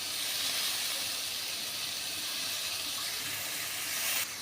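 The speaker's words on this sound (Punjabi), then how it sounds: "ਆਪਾਂ ਜੀ ਥੋੜਾ ਜਿਹਾ ਪਾਣੀ ਪਾ ਕੇ ਪਕਾ ਲਾਂ" A loud, continuous hiss and sizzle of water poured into a hot pan of cooking drumstick pods, steady steam noise that cuts off abruptly at the end.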